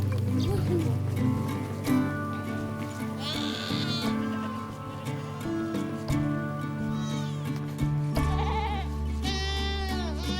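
Cashmere goats of a nomadic herding family bleat among the herd, several calls of various pitch rising over a steady low rumble and background chatter, with a loud cluster of bleats near the end.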